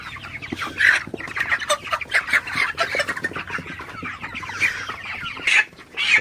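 A flock of broiler chickens, about 33 days old and around two kilograms each, cluck and squawk continuously in a poultry shed, with busy overlapping calls close by.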